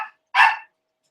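A dog gives two sharp barks, one clipped at the very start and a fuller one just after, close and loud with silence around them.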